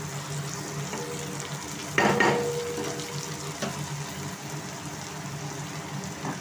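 Food frying in a pan on a home stove, stirred once with a brief louder scrape and sizzle burst, then covered and left to cook in a low steady hiss.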